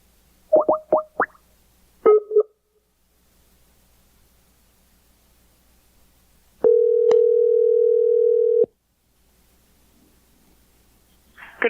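Keypad tones on a telephone while dialing a number: a quick run of short beeps, a pause, then a long steady ringback tone lasting about two seconds, and a faint click at the end.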